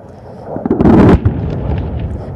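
Bombs dropped by an Indian Air Force dive-bombing jet strike their target at the Vayu Shakti firepower demonstration at Pokhran: a loud, close blast bursting out and rolling away into a lingering outdoor rumble.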